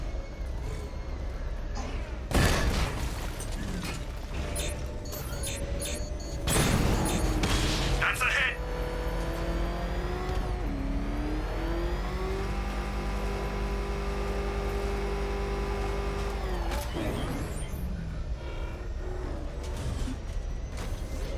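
Heavy gunfire and deep booms from a tank battle in Batman: Arkham Knight, loud and continuous with bursts of blasts and sustained mechanical drones, mixed with game voices.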